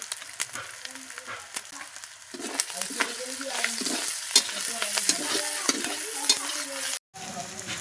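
A ginger, garlic and chilli spice paste fries and is stirred in a pan, giving a steady close sizzle with scraping stir strokes and a brief break near the end.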